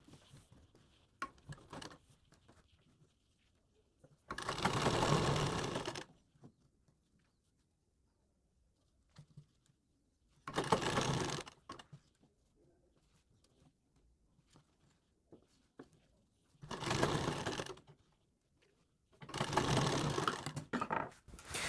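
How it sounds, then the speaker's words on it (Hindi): A sewing machine stitches a smocked blouse in four separate loud runs of rapid, even whirring, each lasting a second or two, with quiet handling sounds between them and no talk. "अब हम यहाँ पे इसमें एक सिलाई लगाएंगे ऊपर की साइड"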